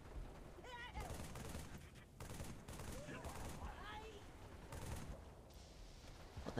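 Halo 3 combat with repeated bursts of gunfire, sharp broadband shots spaced irregularly, mixed with warbling, chirping electronic or alien sounds at moderate loudness, no talking.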